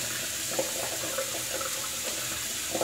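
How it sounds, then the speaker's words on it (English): A bathroom tap runs steadily while the water warms up for a shave, a constant close hiss of flowing water with faint splashing and no talk. "Get the water warmed up and we'll rinse this off."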